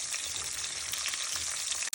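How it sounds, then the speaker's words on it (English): Saltine crackers and a tortilla fry in hot oil in a pan for mole, giving a steady, bright, continuous sizzle close up, with no voices. "I'm going to add my saltine crackers and also my tortilla because they need to be fried"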